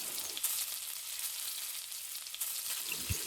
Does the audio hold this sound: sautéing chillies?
yes